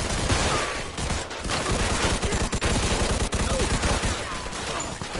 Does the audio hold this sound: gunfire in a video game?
yes